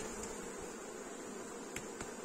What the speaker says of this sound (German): Die letzten 20 Bienen kehren wir ab.